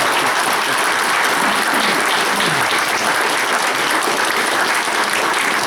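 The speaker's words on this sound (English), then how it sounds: "You can all clap now." Audience applauding at a mayoral debate forum in Coupeville, dense, loud, continuous clapping from a crowd filling the room without a break.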